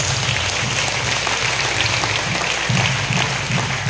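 A church congregation at a Batangas worship gathering breaks into sustained, dense applause, loud and continuous, over a low, throbbing rumble underneath.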